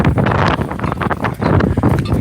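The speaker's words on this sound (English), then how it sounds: "I know it's probably a little too windy for you to be able to hear me" Loud, steady wind buffeting a microphone while bicycling around an old golf course, a continuous low rumbling roar with gusty fluctuations.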